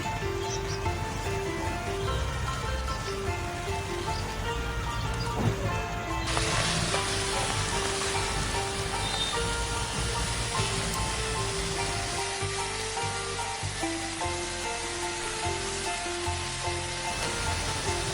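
Tomatoes with salt, chili powder and turmeric frying in oil in a pan for dal khichdi; a continuous close sizzle with faint stirring, and no one speaking.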